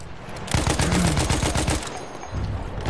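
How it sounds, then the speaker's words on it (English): Rapid automatic gunfire in a Battlefield game, a dense burst of repeated loud shots lasting over a second, tapering into quieter scattered fire and ambient battle noise. "Yo, top right, they're shooting at us, Greg."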